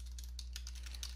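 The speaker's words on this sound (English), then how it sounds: "you want to type in ipconfig" Quick keystrokes on a computer keyboard entering a command in an elevated Windows command line window, a steady run of light clicks close up over a low hum.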